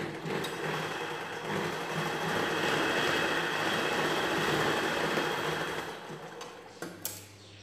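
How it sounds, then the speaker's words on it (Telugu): Sewing machine stitching a princess-cut blouse from the inner side, a steady dense mechanical whir running almost the whole time before easing off with a few clicks near the end. "లోపల వైపు నుంచి కుట్టడం స్టార్ట్ చేయాలి"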